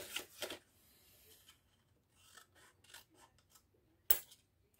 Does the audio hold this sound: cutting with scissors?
yes